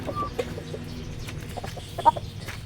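Chickens, a large rooster among them, cluck softly in a dark backyard brooder pen, giving scattered short clucks and small calls over a low, dim background.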